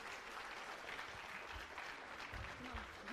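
An audience at a bank officers' association golden jubilee celebration claps steadily, a faint, even patter of many hands throughout.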